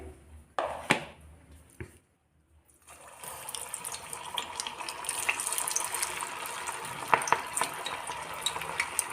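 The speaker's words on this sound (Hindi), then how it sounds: "ये देखिए, अब हम इन्हें फ्राई कर लेंगे।" Vegetable Manchurian balls fry in oil over a low flame. A few sharp clicks and a brief silence come first, then a continuous bubbling sizzle builds and holds, with occasional crackles.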